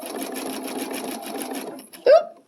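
A sewing machine stitching a blanket stitch applique, a rapid even rattle of stitches close by for about two seconds, then stopping with a short mechanical clunk.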